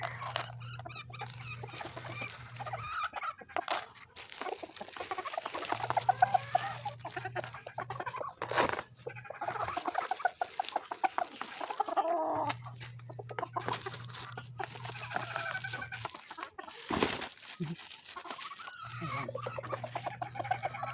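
Laying hens cluck and mutter while pecking at crushed eggshells, with soft, repeated clucks close by, scattered tapping and rustling, and a low steady hum that comes and goes.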